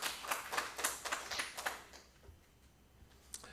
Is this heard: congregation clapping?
yes